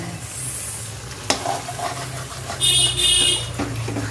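Spices stirred in a frying pan for a steamed paneer dish with ash gourd shoots: a close, steady scraping and sizzling, with one sharp knock near the start and a brief louder patch partway through.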